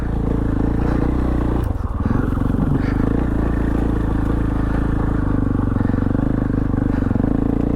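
A KTM 500 EXC dirt bike heard on board during an open-road rally ride, its engine a loud, steady, close drone with rough wind and clatter and a brief dip partway through.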